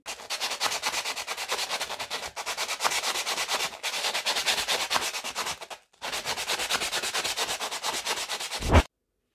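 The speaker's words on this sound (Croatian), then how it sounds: "Ovo ćemo cijevi malo obrusiti." Metal pipes under a bathroom sink are sanded by hand during a drain repair, giving rapid, rhythmic rasping strokes in long close bursts separated by short pauses, ending with a brief thump.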